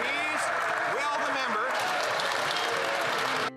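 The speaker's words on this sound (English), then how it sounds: "the Liberals would have to clap for that" Steady clapping from a parliament chamber fills the clip, with a voice speaking over it before it cuts off abruptly near the end.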